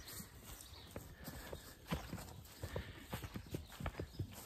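Several horses following along on a morning walk through a grove, their hooves clip-clopping in an irregular walking rhythm, fairly close, with a soft ambient background and no talk.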